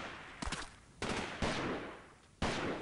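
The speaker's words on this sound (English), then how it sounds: "Somebody is shooting at me." Gunfire in the video game Delta Force 2: four sharp, loud shots arrive at uneven intervals, each followed by a ringing decay, with no talking.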